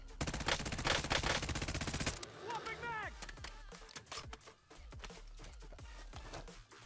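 Rapid automatic gunfire bursts in a Call of Duty match, sharp repeated shots up close, followed by scattered single shots and other game effects during a live tournament stream.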